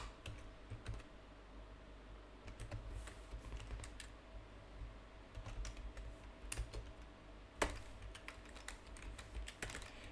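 Faint, irregular keystrokes on a computer keyboard while code is written, quick clusters of taps broken by short pauses over a low room hum.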